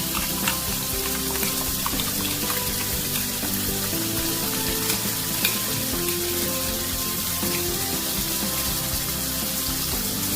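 Green chili, ginger and garlic paste fries in a pan for a duck curry, giving a steady, close sizzle with a dense crackle that runs without a break and no talk over it.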